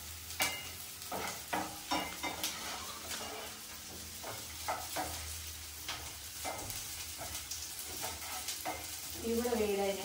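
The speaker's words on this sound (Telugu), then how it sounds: "కొద్దిగా ఆనియన్స్ వేసుకోవాలి. కొద్దిగా లైట్ గా ఫ్రై వేగాలి." Sliced onions and green chilies fry lightly in a pan while filling for a chicken roll is cooked. A soft sizzle sits under intermittent scraping and stirring clinks, close and moderately quiet.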